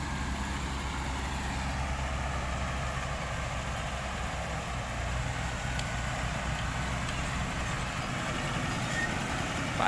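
Continuous low engine hum from a pickup truck driving along with its loose center driveshaft mount tied up by rope, a steady rumbling drone at moderate level with no voices.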